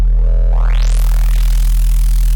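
Harsh, buzzing distortion built from layered noise and asymmetrical waveshaping: a steady low drone holds while a bright, tearing noise sweep rises and then spreads into a dense, loud roar that lasts to the end.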